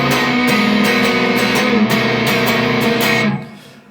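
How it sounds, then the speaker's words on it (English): Distorted electric guitar strumming the chorus chords of a song in a steady down-down-up-up-down rhythm, dense and loud, with the last chord fading out alone. "You're just going to play it with some distortion and use the rhythm down,"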